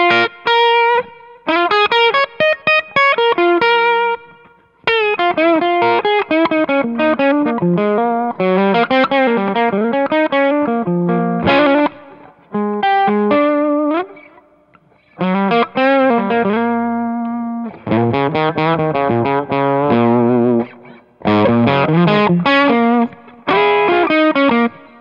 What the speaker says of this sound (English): Now we'll do the bridge pickup with the tone rolled back just a little bit